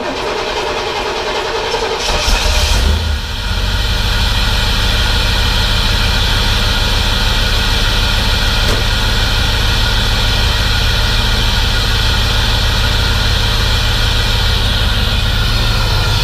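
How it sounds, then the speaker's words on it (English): A Camaro engine catches after cranking, then settles into a steady, loud idle that holds evenly without any talking. "We'll turn the key one more time and start her up."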